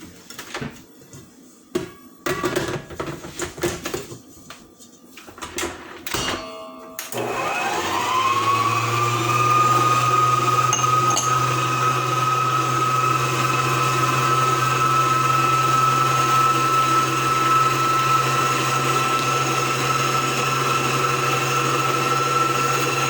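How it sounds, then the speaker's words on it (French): A stand mixer starts up at about seven seconds and churns brioche dough with a loud, steady motor whine that holds to the end, after a few clatters and knocks before it starts. "Je commence à mélanger dans mon robot."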